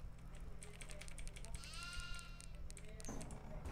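A goat in a video game gives a drawn-out, wavering bleat over a steady low hum, fairly faint, while a person talks in the background.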